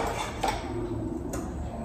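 Dry dishes being taken out of a drying basket, with two quick clinks of plates and utensils over low, steady background noise.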